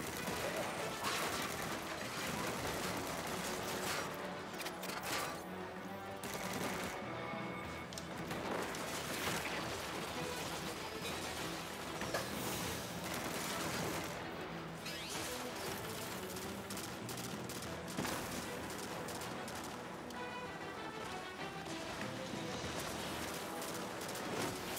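Continuous gunfire and turret shooting in the sci-fi shooter Destiny 2, dense rapid weapon bursts and impacts running throughout at steady loud level, with voices talking over the combat.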